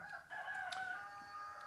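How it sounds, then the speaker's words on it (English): A rooster crows once at a moderate distance, its rising then falling call carrying faintly over a quiet background for a little over a second. "If you can hear that rooster, I hear it."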